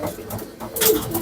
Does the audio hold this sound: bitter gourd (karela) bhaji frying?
no